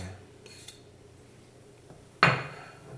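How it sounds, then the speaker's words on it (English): Chai tea stirred in a pot on the stove: faint soft scraping early, then one sharp metallic clink of a utensil against the pot, followed by a brief ringing tail, with no talk. "So we're going to stir the tea in."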